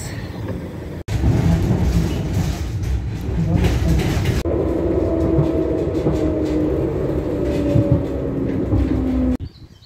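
A tram in Gdańsk rumbles along its rails with a steady low roar and a rising electric whine, heard from close by with faint clatter.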